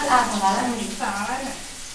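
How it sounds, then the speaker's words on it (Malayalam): Water crackles and sizzles in hot oil as chopped onion cooks for Yippee noodles, a soft frying hiss running beneath a person talking. "വെള്ളം പൊട്ടുന്ന സൗണ്ടാണ് നിങ്ങൾ കേൾക്കണത്"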